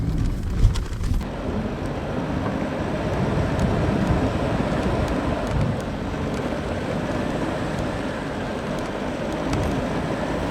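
A Mux drives up the rough, gnarly Sani Pass mountain road with a dense, continuous engine drone and road rumble, a steady loud wash of noise heard from inside the vehicle, with no voices.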